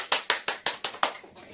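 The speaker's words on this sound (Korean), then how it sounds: "박수!" Six quick, crisp hand claps in a brisk even rhythm during a seniors' exercise class, close by, trailing off into a softer final tap.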